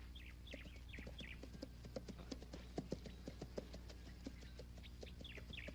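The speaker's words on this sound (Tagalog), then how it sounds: "Udas, Barabas, kunin niyo yung kabayo!" Steady clip-clop of horse hooves on a hard surface, fairly close, with birds chirping in the background.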